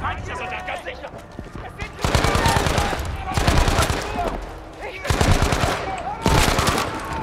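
Automatic gun firing in Battlefield V, loud repeated long bursts of rapid fire with short gaps between them over a constant battle din.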